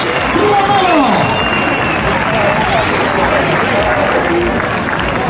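Dense crowd applause at a Goyesque bullfighting contest in Casetas, Zaragoza, fills the space continuously, loud and steady, with a voice faintly calling out over the noise.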